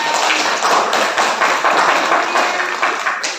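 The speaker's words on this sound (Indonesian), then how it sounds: "Oke, tepuk tangan." Hands clapping in a group, likely a classroom: rapid, dense, loud clapping that runs continuously, close by.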